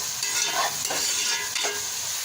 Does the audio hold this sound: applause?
no